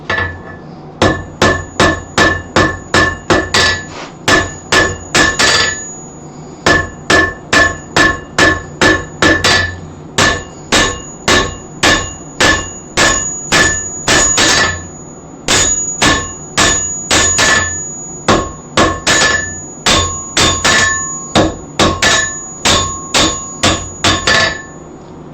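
Hand hammer striking hot metal on an anvil at a blacksmith's forge, a long run of loud, ringing metallic blows in quick rhythmic bursts with short pauses between groups, no voices.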